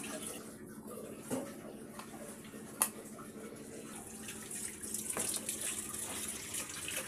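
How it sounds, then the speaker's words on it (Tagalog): Tap water runs into a sink as a cooking pot is washed, a faint, steady hiss of flowing water with occasional soft knocks and clinks. "nililinis pa kasi yung kaldero"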